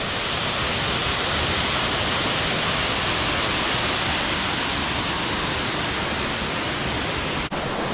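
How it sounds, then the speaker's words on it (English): Dutchman Falls roars steadily close by in Loyalsock Forest, a dense, unbroken rush of falling water filling the whole clip at a loud, even level. "But look at that beautiful waterfall."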